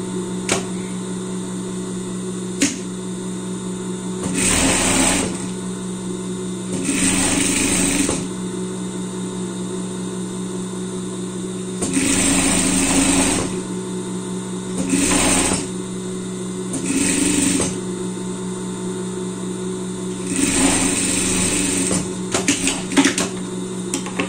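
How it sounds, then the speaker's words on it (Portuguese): Overlock sewing machine stitching a seam on a pet outfit, running in several short loud bursts of one to two seconds separated by pauses, close up over a steady background hum. "você quiser fazer essa costura na overlock"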